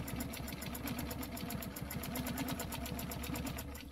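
A sewing machine stitches along a stencil line with a fast, steady mechanical chatter of evenly spaced needle strokes over a constant motor hum. It sounds close and runs without pause.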